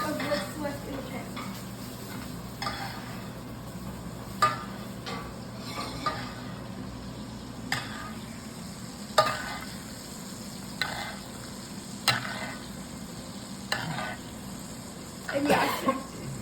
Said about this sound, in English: Now I'm going to finish basting it just 2 more times. Just get the little remnants of what's left in the pan.